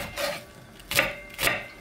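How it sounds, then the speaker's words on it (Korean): Half an onion sliced with a knife while making a mild Korean doenjang stew with wild chives: three separate rasping cuts, close up and fairly quiet, with no talking. "양파 반 개인데 요렇게 잘라가지고 잘 요렇게 잘라줄게요"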